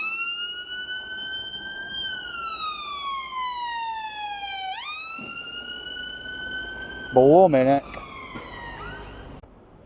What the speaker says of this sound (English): Sirens in Blackpool, that's not new, is it?